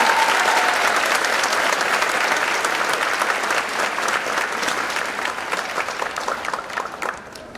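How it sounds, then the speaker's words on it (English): Sustained applause from a high school graduation audience for the class of 2019, a dense steady clatter of many hands that gradually thins toward the end. "let's give a round of applause for the graduating class of 2019"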